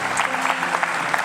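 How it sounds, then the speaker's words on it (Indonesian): A studio audience claps steadily for a short burst, the applause dense and close throughout. "Tepuk tangan dong."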